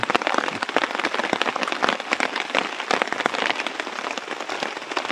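Steady rain patters densely on a surface, close and continuous, with sharp drips scattered throughout.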